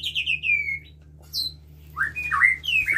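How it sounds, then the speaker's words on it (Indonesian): White-rumped shama (murai batu) singing nearby, a series of clear whistled phrases and sharp chirps with short pauses between bursts, loud against a low steady hum. "wow udah ganteng nih King Killer nih. Tapi dia nggak mau di video tuh kan, udah gacor nih King Killer"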